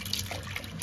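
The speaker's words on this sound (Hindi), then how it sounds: "तो ओट्स को भी हम अच्छे से दालों के साथ धोएंगे।" Oats and lentils being washed by hand in a bowl of water, a brief close splash and swish of liquid with a sharper slosh at the end.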